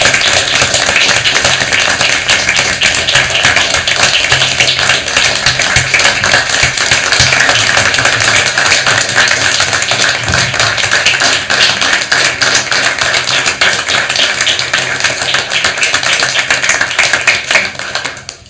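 Sustained applause from an audience honoring education leaders at a state board of education meeting, steady and dense clapping that fills the room for about eighteen seconds before tapering off at the end.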